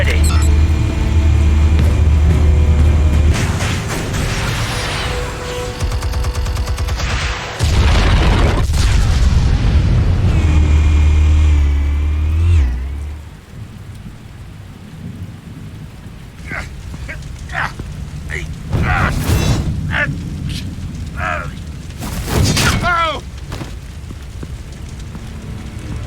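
Explosives detonating in Batman: The Telltale Series, with loud low booming blasts early on, trailing into rumbling debris and scattered impacts while voices talk over parts of it.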